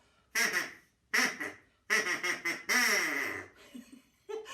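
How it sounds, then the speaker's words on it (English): Ducks quacking in several separate loud bursts, some short and some drawn out into longer runs of nasal calls, close and clear with quiet gaps between them. "5 little ducks all swam back to be with their mummy."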